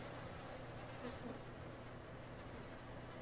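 Flies buzz steadily around a man in the horror game Outlast, a faint, continuous insect drone hovering under a low, dark ambient hum for the whole stretch.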